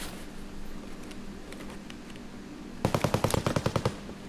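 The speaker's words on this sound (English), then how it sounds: "That's probably an AK or something like that." Automatic AK rifle fire in the video game Escape from Tarkov: a rapid burst of about a dozen punchy shots near the end, preceded by fainter scattered distant shots over a low ambient hum.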